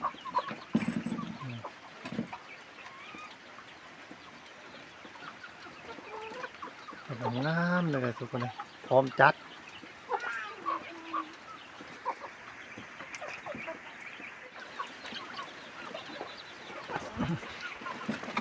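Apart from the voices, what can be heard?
chickens clucking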